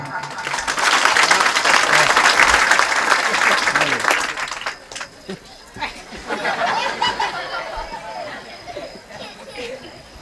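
Audience applause at a Marathi family-life lecture by a social reformer, loud and sustained clapping for the first four seconds, then fading into scattered claps and crowd murmur.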